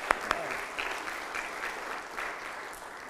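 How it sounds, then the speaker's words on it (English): Church congregation applauding the youth praise band during a Sunday worship service, a soft, fairly distant spatter of clapping with a few sharper claps near the start, sustained at low volume throughout. "Let's give them another little round of applause."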